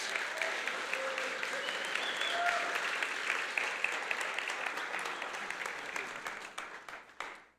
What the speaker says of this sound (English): Let's give Adam a huge round of applause.